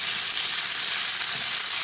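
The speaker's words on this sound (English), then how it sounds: "And I'm going to get our steaks in there. And there's that sizzle." Steaks sizzle loudly in a hot frying pan, a dense, steady crackling hiss with no one speaking.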